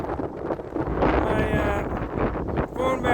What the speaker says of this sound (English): The wind is going to be loud.